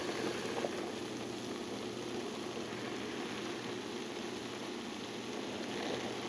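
Red wine fermenting near its peak gives off a steady, dense fizz and crackle of popping bubbles, faint and continuous with no voices.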